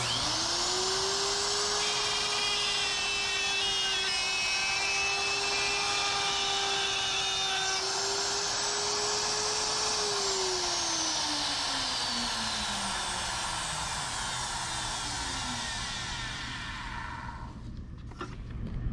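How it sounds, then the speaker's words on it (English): A router cuts a dovetail joint in wood, a loud, steady high whine with cutting noise that runs for about ten seconds, then spins down as the motor winds off near the end. "So if I don't take my router around the U shape and then back down the middle, I have a little bit of wood left here."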